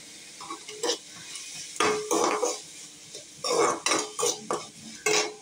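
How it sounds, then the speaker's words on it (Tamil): Curry leaves frying with onion and capsicum in a pan on low heat, with repeated spoon scrapes and clinks against the metal over a quiet, steady background sizzle. "கொஞ்சமாக கறிவேப்பிலை போட்டுக்கணும்."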